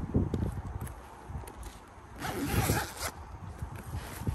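A zipper with 550 paracord pulls on a Bastion Gear Mr. Frosty chest rig is pulled in several quick rasping strokes, close up, with soft rustling of fabric between them and no talking.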